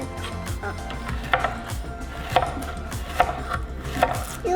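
Knife chopping zucchini into rounds on a cutting board in a home kitchen, with several sharp, evenly spaced thuds of the blade striking wood over a busy background of low kitchen noise.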